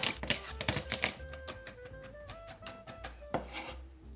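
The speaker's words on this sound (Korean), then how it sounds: "마늘은 다져." A knife mincing garlic on a cutting board during Korean home cooking, with quick irregular taps and scraping chops close by, quiet and without talk.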